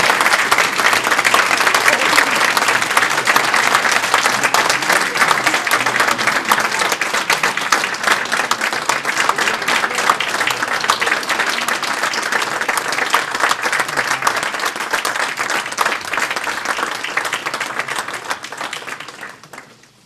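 A big round of applause at a gala welcoming the 2012 Shad Derby Queen candidates: dense, continuous crowd clapping, loud and steady, tapering off at the very end.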